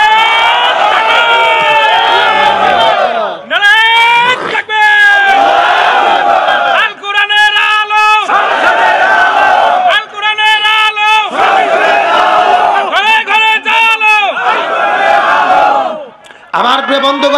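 A large crowd at a religious sermon chants a takbir slogan in loud, sustained unison calls, alternating with a lead voice, repeated several times over an amplified sound system.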